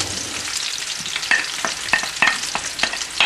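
Artichokes and potatoes frying with golden garlic in a pan make a busy close sizzle. A spoon stirs them with repeated sharp clacks and scrapes at an uneven rhythm.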